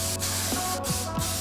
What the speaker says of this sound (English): So make sure that you give this a very good spray.